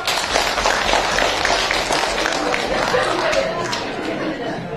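Audience applause and crowd chatter at a lively Sundanese comedic religious sermon, dense and steady throughout with scattered clapping, cheers and laughter blending into a continuous roar.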